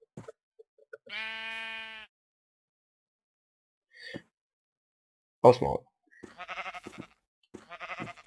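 A Minecraft sheep gives one clear, drawn-out bleat, then short bleats follow after a gap, with brief talk in between and afterwards.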